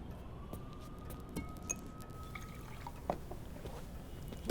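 Water is poured for a guest, a thin steady stream with a faint rising fill tone and light clinks of glass, quiet and close.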